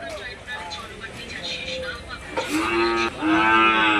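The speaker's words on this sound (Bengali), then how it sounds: "একটা বাচ্চা গরু আছে" Cattle moo repeatedly at Gabtoli cattle market, with several loud, drawn-out calls close by, the strongest near the end, over a busy crowd murmur.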